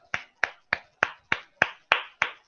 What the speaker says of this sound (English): Jason, ma'am, clapping hands for you.